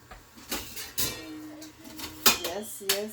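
A lid goes onto a pot of simmering beef stew with several metallic clanks and scrapes. A person speaks in between the knocks.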